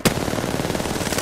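Rapid automatic gunfire in the Apex Legends video game on PS5, a loud, close, continuous stream of shots with no talk.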